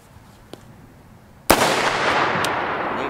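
A single loud, close .223 Remington rifle shot, loaded with 55gr Sierra BlitzKing, fired in the Australian Outback. A sharp crack is followed by a long rolling echo that fades slowly, with a faint click just before.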